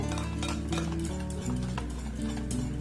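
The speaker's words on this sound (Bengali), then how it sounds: "একটু আলতোভাবে নাড়াচাড়া করে ব্লেন্ড করে নিলেই হবে" Sweet roti batter is stirred gently in a bowl, giving soft repeated scraping strokes, close by and partly masked by steady tonal background music.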